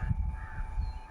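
A couple of harsh crow caws ring out at a moderate distance over a quiet background hum.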